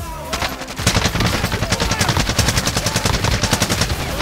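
Sustained automatic gunfire in the video game Call of Duty Warzone, a dense rattling burst starting after a brief lull and running on loudly with overlapping shots, no talk heard.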